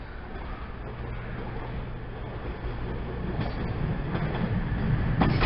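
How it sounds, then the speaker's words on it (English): A cross-country passenger service to Penzance pulls into Exeter St Davids station, a low rumbling approach that grows steadily louder, with faint clicks of wheels on rails toward the end. "coming in here is a cross-country service to Penzance."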